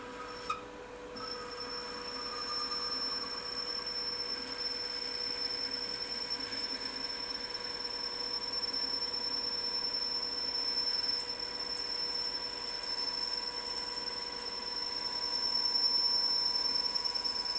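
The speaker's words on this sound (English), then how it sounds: "So let's see how it behaves in aluminium, running at 600 RPM too." A milling machine bores aluminium with a carbide tool at 600 RPM, giving a steady, even cutting hum with a thin high whine that runs unbroken for the whole stretch.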